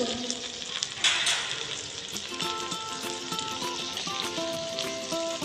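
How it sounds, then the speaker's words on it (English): Prawns grilling on a sizzler plate crackle and sizzle steadily, with a burst of hissing early on and clinking utensil taps as they are turned. "Our prawns are grilled from one side. Now please turn them."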